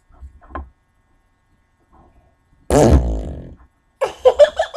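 Noise putty squeezed to make a loud, sputtering fart-like squelch lasting under a second, with softer squishy bursts before and after.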